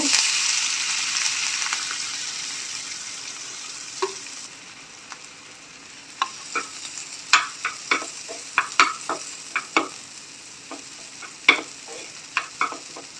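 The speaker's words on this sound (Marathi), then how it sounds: "चटणी मिक्स करून तळून घेऊया" Coarsely ground pigeon pea (tur bean) chutney fries in hot oil in a pan, opening with a strong hiss that settles into a softer sizzle broken by frequent sharp scrapes and taps of stirring, close by.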